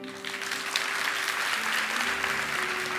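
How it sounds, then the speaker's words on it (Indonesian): A church congregation claps together in a dense, continuous wash of applause, loud and sustained for a few seconds, with a low musical hum beneath it. "Kasih tepuk tangan untuk Tuhan"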